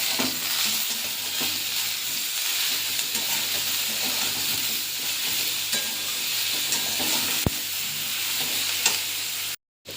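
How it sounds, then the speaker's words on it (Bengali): Potato and eggplant fry steadily in a pan with slit green chillies, salt and turmeric, a dense continuous sizzle running throughout with occasional stirring scrapes and a brief dropout near the end. "দেখো আলুটা আর বেগুনটা কিন্তু ভাজা ভাজা হয়ে গেছে"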